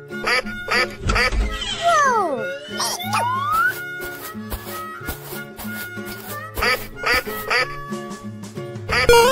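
A cartoonish duck quacks several times in an animal video game, over a bouncy looping music track with steady beats and bright sound effects.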